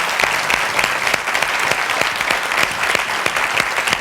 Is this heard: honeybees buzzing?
no